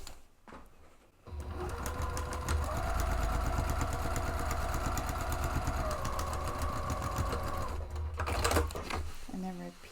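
Sewing machine stitches a bag interior seam to seam, a close, steady whirring run of rapid stitching for about seven seconds before stopping.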